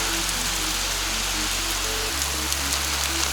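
Heavy rain shower pours steadily on a mountain ridge in the Carpathians as a thunderstorm approaches, a dense, even hiss of drops close by with a low rumble underneath, no voices.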